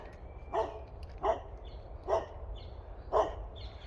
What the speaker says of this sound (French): je me fais engueuler par un chien